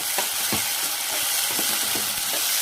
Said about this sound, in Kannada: ಇದನ್ನು ಸ್ವಲ್ಪ 1 ನಿಮಿಷ ಫ್ರೈ ಮಾಡಿ.